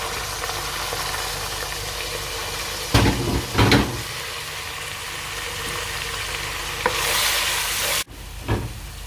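Browned onions with turmeric, coriander and whole and ground garam masala fry in a pan for a restaurant-style mixed dal, giving a steady loud sizzle broken by a few scraping stirs and a brief knock.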